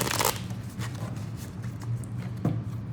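Tarot deck being shuffled by hand, with a crisp riffle of cards up close at the start and then softer rustling and tapping.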